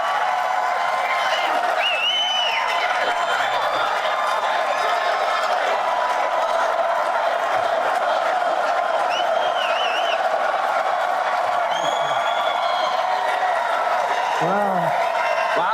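Applause and cheering from a large crowd at a town hall, a steady wash of clapping and occasional whoops that runs throughout, with voices mixed in.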